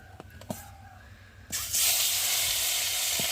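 Rui fish frying in hot oil: a quiet start with a few light clicks, then a loud, steady sizzle rises suddenly and holds unbroken to the end.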